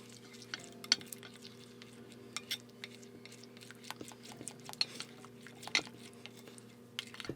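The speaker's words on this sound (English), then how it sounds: "and then I'm going to mix everything together." Pigment is mixed into a homemade body lava, with soft scattered clicks and light scraping of a utensil against a container. The sounds are faint and close, irregularly spaced over a quiet background.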